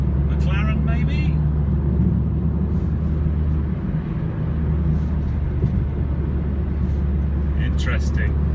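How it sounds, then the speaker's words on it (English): A heavily camouflaged McLaren P14 prototype car drives in the UK, heard as a steady low engine rumble with a faint whine above it, while someone talks quietly over it at the start and end. "So I was pretty sure it was a McLaren."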